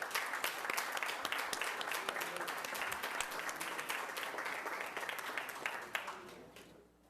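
Applause fills a school board meeting room, a steady crowd of clapping hands that carries on for several seconds before fading away at the end.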